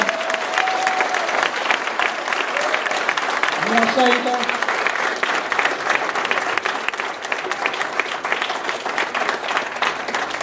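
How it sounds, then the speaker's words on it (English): A church congregation applauds at an evening service, dense and continuous clapping filling the room at steady loudness, with a few voices briefly speaking over it. "one more round of applause for the Lord tonight"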